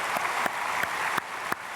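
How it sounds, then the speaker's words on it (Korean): A church congregation applauding after a hymn solo, steady dense clapping from many hands filling a large room, loud and continuous without speech. "우리 크게 박수로 축복하겠습니다"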